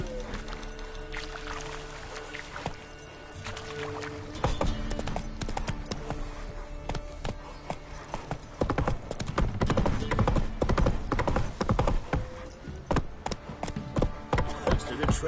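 Roach, a horse in The Witcher 3 video game, trots with steady clip-clopping hooves that grow louder midway, mixed with game ambience and occasional snorts.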